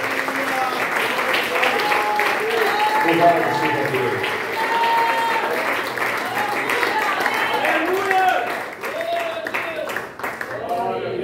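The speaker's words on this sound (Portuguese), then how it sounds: "Dê uma salva de palmas, meus irmãos" Church congregation applauding during a worship service, a dense, steady wash of clapping with voices calling out and speaking over it throughout.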